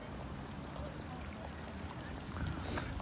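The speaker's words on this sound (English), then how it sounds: "Tons of water just coming out" Strongly flowing stream water along a bare, unvegetated bank pours steadily and fairly loud, a dense rushing wash with a brighter splash near the end, no one speaking.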